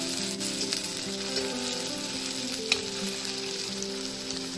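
Chopped onion sizzles steadily in a hot pan while making cabbage kofta curry, with a constant close frying hiss and occasional stirring scrapes.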